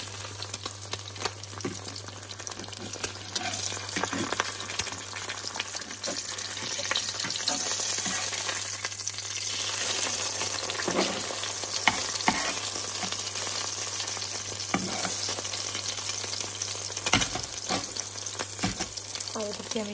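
An egg fries lightly in a pan with a steady, crackling sizzle that carries on for the whole stretch, joined by occasional utensil taps and a low electrical hum.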